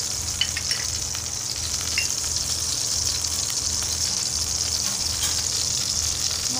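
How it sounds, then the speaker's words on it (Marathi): Mustard seeds spluttering and crackling in hot oil in a kadai, a steady close sizzle scattered with small popping snaps throughout, with no talking. "मोहरी छान तडतडते।"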